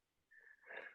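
A single quick sneeze with a sharp intake, close and fairly quiet, alone without talk.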